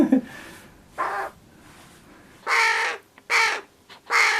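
A hungry crow chick fallen from its nest calls with harsh, raspy begging caws, first softer bursts then three loud close squawks in a row, with no talk over them.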